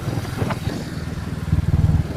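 A motorcycle engine rumbles close by, its low throb pulsing steadily and growing a little louder toward the end.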